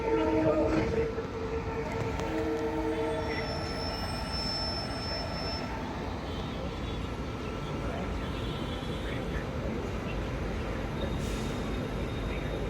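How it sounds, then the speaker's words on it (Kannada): A diesel locomotive pulls a train into Rajkot Junction railway station, a steady heavy rumble of engine and rolling wheels lasting throughout, with faint high metallic squeal and a brief louder burst at the start. "ಇನ್ನೊಂದು ಡೀಸೆಲ್ ಇಂಜಿನ್ ಬರ್ತಾಯಿದೆ"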